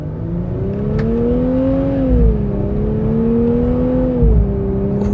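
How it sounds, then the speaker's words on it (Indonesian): A Nissan Z Nismo with a 420 hp engine drones steadily from inside the cabin, its pitch rising and then dipping twice as it shifts through the gears, loud and continuous with no talk. "Tiap pindah gigi loh udah berubup."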